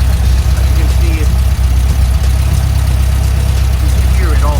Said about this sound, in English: I just started the car, and the idle, as you can see it,